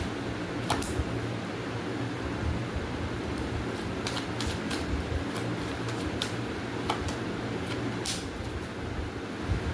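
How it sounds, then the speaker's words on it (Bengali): Tarot cards are shuffled by hand in a soft, continuous papery riffle with a few sharper flicks, close and fairly quiet, with no speech. "আমি এখানে শাফল করবো"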